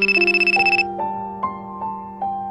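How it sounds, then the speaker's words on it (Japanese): A mobile phone ringtone signals an incoming call, a loud, close electronic melody with rapid pulsing tones at the start, then sustained bright notes stepping through a short tune. "リクの携帯に彼女から着信が入る。"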